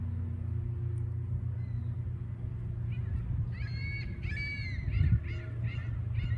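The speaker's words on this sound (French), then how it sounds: "On entend les oiseaux." Birds give a short series of honking, goose-like calls at mid-distance outdoors during a workout, heard over a low steady rumble.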